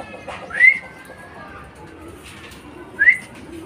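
Racing pigeons arriving home at the loft from training, with two bright whistling swoops of wings or calls about two and a half seconds apart over a quiet outdoor background.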